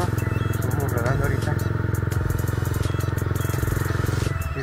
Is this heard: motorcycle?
yes